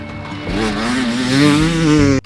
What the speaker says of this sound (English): the one we're most excited about is the 300 XCW two-stroke